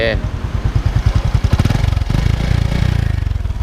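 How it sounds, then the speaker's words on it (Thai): Honda Dream 125 motorcycle engine idling and revving through its exhaust, a close, loud steady putter with rhythmic pulses that rise and quicken, a voice briefly heard over it. "เอาฟังเสียงท่อกันก่อน"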